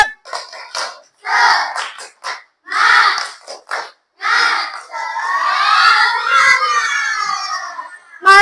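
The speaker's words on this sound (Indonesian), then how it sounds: "Sebelum lanjut ke presentasi, kita ice breaking, tepuk semangat dulu." A group of trainees does a rhythmic clapping chant as an ice-breaker at a teacher training session. Rhythmic clap bursts and chanted calls from many voices are followed by a long, loud collective shout.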